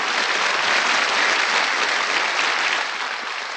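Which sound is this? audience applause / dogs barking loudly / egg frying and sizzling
audience applause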